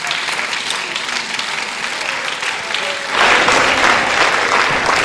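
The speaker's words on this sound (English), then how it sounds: "Could you just stand as we give her a round of applause" A Pentecostal church congregation stands and gives a round of applause; clapping is already going under light chatter, then swells sharply louder and denser for the final couple of seconds.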